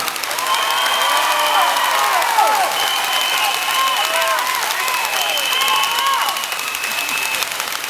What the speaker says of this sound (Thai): ปรบมือเป็นกำลังใจ ให้กับทุกกลุ่ม ที่ออกมาสู้เพื่อความถูกต้อง